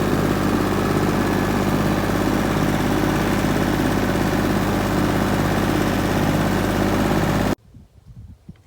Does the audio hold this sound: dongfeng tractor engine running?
yes